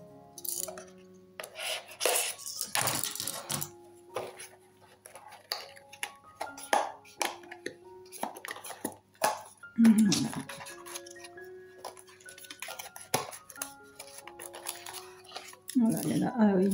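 A package of craft stickers is opened by hand, with crinkling plastic, tearing and scattered clicks and taps at close range, broken up by pauses and some talking.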